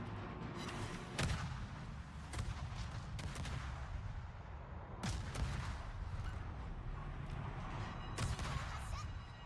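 Warship guns in a naval combat video game fire in several booming salvos, sharp blasts spaced a second or two apart over a continuous rumbling engine and battle din.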